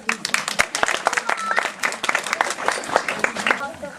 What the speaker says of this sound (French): On peut vous applaudir.